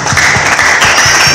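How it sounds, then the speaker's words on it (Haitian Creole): Loud applause from a church congregation during a sermon, steady dense clapping with rhythmic accents throughout, close and unbroken, no talking. "On va applaudir le tour."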